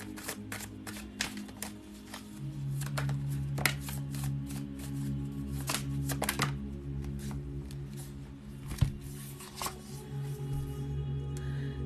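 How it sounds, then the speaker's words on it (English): Tarot cards being shuffled and pulled, soft repeated riffling and flicking at close range with sharper snaps now and then, quiet and without talk. "Let me pull a couple cards for Jindy."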